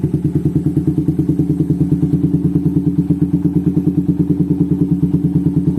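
A Suzuki Satria FU 155cc motorcycle, still being broken in after a tune-up with an oversize piston, idles close and loud with a rapid, regular thumping engine pulse for several seconds and no voices.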